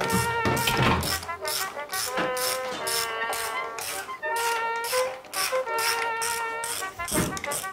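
Hand tools working fasteners loose on a Rolls-Royce Meteor 27-litre V12 tank engine, giving repeated ratcheting clicks and metallic taps in uneven bursts close by, with tonal ringing throughout.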